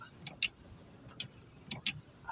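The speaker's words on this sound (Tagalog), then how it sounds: "Marami hong sasakyan ng pababa." Several cars drive slowly downhill through Taal Heritage Town in heavy rain. A faint steady road rumble runs underneath repeated sharp ticking and tapping transients.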